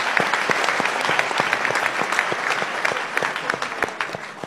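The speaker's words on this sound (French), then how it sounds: "je pense qu'il mérite un applaudissement." Audience applauding at a talk, a steady even round of many hands clapping, fairly close and sustained throughout without voices.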